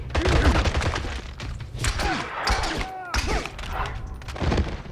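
Gunfire in the video game 007: Blood Stone, a dense burst of shots and thuds through most of the stretch, close and loud, with game voices talking underneath.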